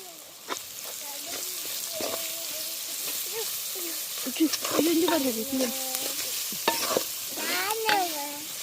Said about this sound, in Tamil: உள்ளியையும் போட்டு நல்லா வதங்க விடும்